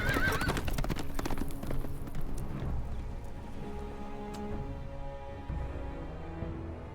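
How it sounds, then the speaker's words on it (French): A horse in the Game of Thrones Telltale video game whinnies and its hooves clip-clop, loud at first then fading into softer ambient sounds with faint rain-like patter. "Vas-y, tue le cheval là."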